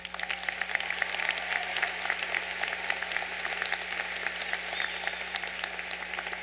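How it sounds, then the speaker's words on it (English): Sustained applause from a large audience at a university commencement ceremony, a continuous crackling roar of many hands clapping at an even, steady level throughout, with a low steady hum beneath it. "Can you please give them a round of applause?"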